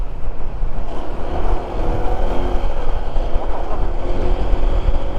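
A Honda ADV160 scooter engine runs steadily under a loud, continuous rumble mixed with heavy wind noise, as if recorded while riding on a road trip.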